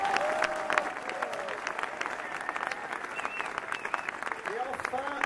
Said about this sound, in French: Je vous propose de les applaudir tous ensemble.